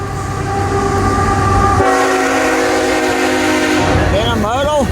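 An intermodal freight train rolls past close by, its steady wheel and car rumble holding throughout while the locomotive horn blows long sustained blasts, rising near the end.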